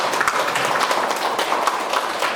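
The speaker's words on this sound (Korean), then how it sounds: "박수로 시작하겠습니다." An indoor audience of parents gives dense, steady applause for a couple of seconds at the start of a parent training session on high school credit system admissions, with no voices over the clapping.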